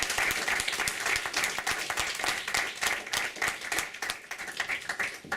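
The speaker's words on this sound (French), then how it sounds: "Je crois qu'on peut tous les applaudir et remercier." Audience at a round-table discussion applauding, a sustained dense clapping from a modest crowd indoors that tapers slightly near the end, no talking over it.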